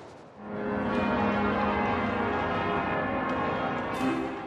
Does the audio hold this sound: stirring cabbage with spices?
no